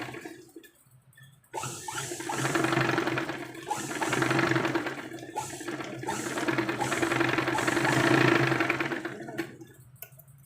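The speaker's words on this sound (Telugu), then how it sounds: "ఇలా డబుల్ స్టిచ్చింగ్ అయితే వేసుకోవాలి." A domestic sewing machine runs in several bursts as it double-stitches a young girl's frock, a close, rapid mechanical whir with brief pauses between runs and no voices.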